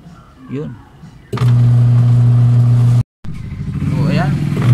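An American Home twin tub washing machine's wash motor runs with a loud, steady low hum that starts abruptly, cuts out briefly, then resumes. Someone talks before and over it.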